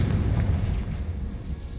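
Confringo fire spell in the Hogwarts Legacy video game bursting with a loud, sustained booming blast, a dense low rumble that rolls on without fading over its short length, with no one speaking.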